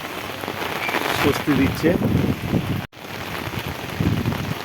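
Heavy rain pouring on a rooftop during a hot spell, a dense steady hiss with a brief gap, while a person speaks briefly over it.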